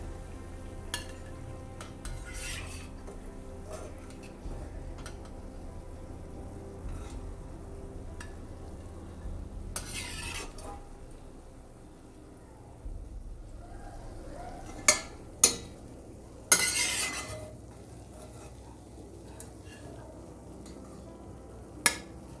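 Bread slices frying in a pan for shahi tukra give a soft, steady sizzle, broken by occasional metallic clinks and scrapes of a utensil against the pan.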